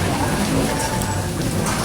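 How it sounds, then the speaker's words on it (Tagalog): Heavy rain pours down in a dense, steady wash of noise close by, with no clear gaps and faint background sounds. "Malakas ulan dito."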